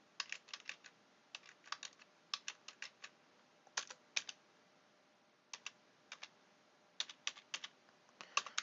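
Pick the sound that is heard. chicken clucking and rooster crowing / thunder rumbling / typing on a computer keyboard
typing on a computer keyboard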